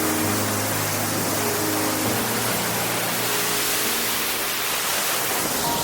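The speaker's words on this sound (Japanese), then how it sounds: "もっと滝の近くに寄ってみます" A waterfall in a mountain gorge with greenish water roars from close by, a continuous, even wash of falling water with no pauses.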